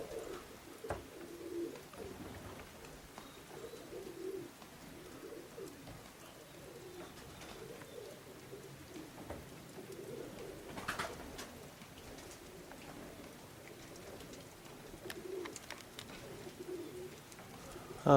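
A flock of Modoc High Mountain Zippers racing pigeons, young birds bred in 2017, coo steadily and softly nearby, with scattered wing flaps and bird calls. Faint talk rises briefly in the background.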